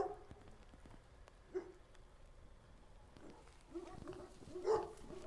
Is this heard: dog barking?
yes